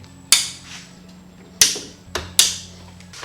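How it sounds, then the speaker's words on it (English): Clamps snapping shut on the corners of a WorkPro work bench, three or four sharp metallic clicks spaced apart, close and crisp over a low background hum. "Now on each corner you have a clamp, so we're gonna take this up."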